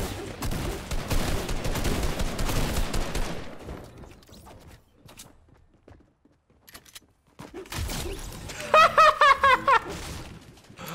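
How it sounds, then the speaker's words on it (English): Shotgun gunfire in a video game comes as a dense burst of shots, followed by a quiet gap and then a louder cluster of sharp blasts near the end. "there's someone with a shotgun underneath me already"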